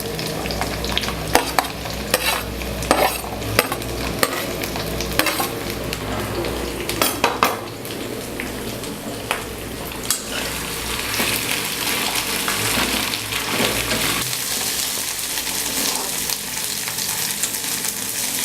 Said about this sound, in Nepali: अब यसलाई राम्ररी चलाउँदै फ्राई गर्नुपर्छ।